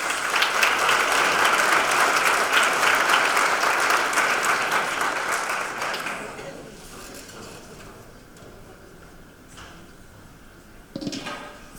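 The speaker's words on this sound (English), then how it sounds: "please give a huge round of applause to Gareth Chambers" An audience gives a comedy-club style round of applause for a performer, a loud dense burst of many hands that holds for about six seconds, then fades into quieter room noise and a few scattered claps.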